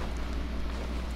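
Horse galloping in the Red Dead Redemption 2 Online video game, a steady muffled rumble of hoofbeats running continuously at a moderate distance without any talk over it.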